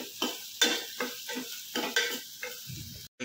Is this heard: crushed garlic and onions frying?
yes